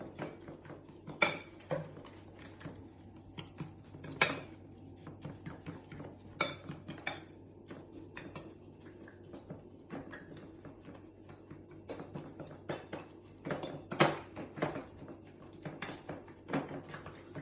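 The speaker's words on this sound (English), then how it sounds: "Then we add in our oats, and again stir, stir, stir, stir." Oats being stirred into pancake batter in a bowl, heard as a steady run of clinks and scrapes from a spoon against the bowl with irregular sharper knocks, fairly close and with no talking.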